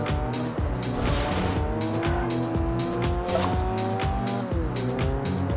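Engine of a Mercedes A200 traffic car in Forza Horizon 2, a loud, steady in-game drone with rising and falling gear tones and squealing tires, continuous and close throughout with no talk.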